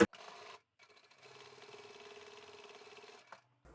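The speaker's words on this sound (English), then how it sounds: "Now we'll sew the side strips onto the main fabric for the back and front." A sewing machine, faint and close, stitches side strips onto the main fabric of a small zippered handbag, with a short run, a pause and a longer steady stitching burst that ends with a click.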